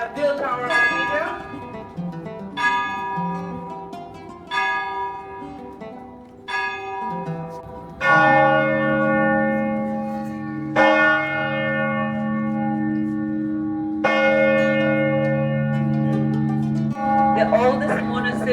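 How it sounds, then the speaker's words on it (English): Church bells at the main bell tower on the Greek island of Hydra ring at noon, a series of loud, resonant strikes with long ringing decays spaced a few seconds apart, while a voice talks in the background. "You can hurry and you can see the main bell tower of Hydra."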